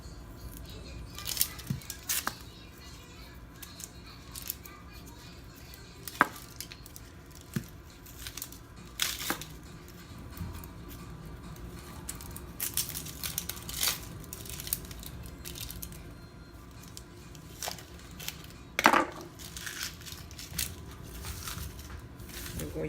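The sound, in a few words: knife slicing onions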